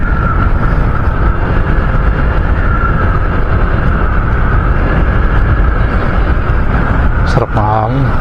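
Wind roars loud and steady against the microphone during a road ride, with a low engine hum beneath it and a short voice near the end.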